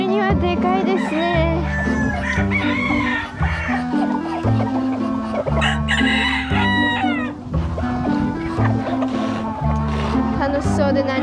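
Chickens cluck and a rooster crows loudly and close, with steady background music and voices.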